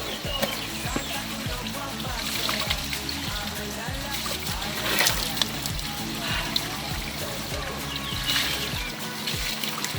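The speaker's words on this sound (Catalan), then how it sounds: "La font del Boixar, meravellós," Spring water runs steadily from the mountain-fed Font del Boixar fountain on a walking route near Navarcles, a soft continuous trickle and splash heard close by at low level.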